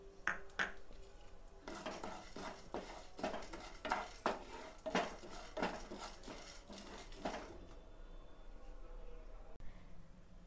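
Urad dal dry-roasts in a pan alongside chana dal, with a spatula scraping and tossing the lentils in a run of quick, evenly spaced strokes that fade out near the end.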